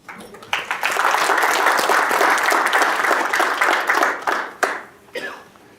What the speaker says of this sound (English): So I think AFGRI deserves a warm applause.